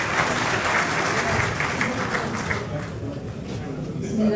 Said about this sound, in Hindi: तालियों की गूंज में